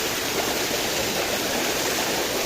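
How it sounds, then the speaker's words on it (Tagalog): Floodwater rushes hard down a mountain stream, a loud, dense and constant roar close by that fills the whole stretch without pause. "Napakalakas ng tubig mga kaprabis."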